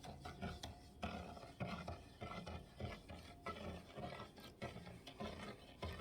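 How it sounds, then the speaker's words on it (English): A kitchen spoon stirs salt into a liquid solution, producing faint, repeated scraping and swishing strokes in an uneven rhythm, close by and quiet. "I'm going to stir with my high-powered stirring rod, which is a kitchen spoon."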